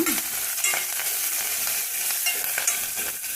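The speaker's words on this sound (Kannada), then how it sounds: "ಆಮೇಲೆ ಈರುಳ್ಳಿ ಹಾಕಿದ್ದೀನಿ, ಕರಿಬೇವು ಹಾಕ್ಕೊತಾ ಇದ್ದೀನಿ" Onions and curry leaves fry in a pan of oil for a radish sambar. A dense, steady sizzle runs throughout, broken by the scrape of stirring, with no voices.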